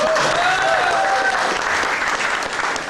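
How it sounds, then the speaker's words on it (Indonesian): An audience breaks into loud, sustained applause during a seminar talk, thick clapping that fills the room with a tonal sound running through the first half and easing slightly near the end. "Tepuk tangan dulu Pak."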